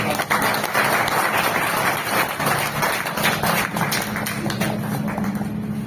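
An audience at a pensioners' association foundation day event in Chapra applauds steadily, dense continuous clapping filling the whole stretch at a loud, even level with no voices over it.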